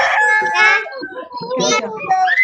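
A child imitates a rooster crowing with a high, wavering cock-a-doodle-doo in a couple of short vocal bursts, heard close and clear during an animal-sounds game.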